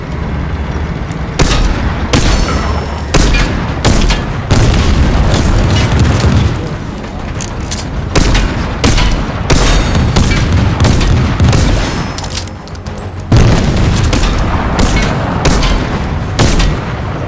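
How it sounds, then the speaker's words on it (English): Crouched pistol shots aimed at an enemy tank in Fortnite, heard as a rapid run of sharp, loud reports in quick bursts with brief pauses between them, thudding impacts and battle noise underneath. "Make sure you crouch and just fire at that tank"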